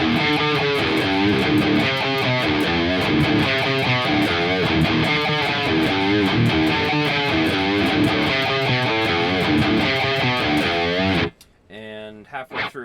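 Distorted electric guitar plays the intro riff of a song, a dense, steady metal part sustained for about eleven seconds before cutting off abruptly into a quieter tail.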